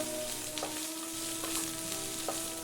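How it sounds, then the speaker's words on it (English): Four medium sliced onions fry in melted ghee for a lamb biryani, a soft, continuous sizzle with a few faint stirring clicks, quiet and close with no talking. "add the 4 medium onions that have been sliced and cook until they're golden"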